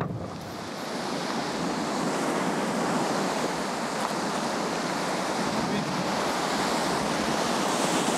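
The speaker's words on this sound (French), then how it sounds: "Il y a beaucoup de vagues. Car l'eau est relâchée avec beaucoup de puissance par le barrage." Churning waves on a river below a dam in China as water is released with great force, a steady loud wash of surf with wind buffeting the microphone, no speech heard.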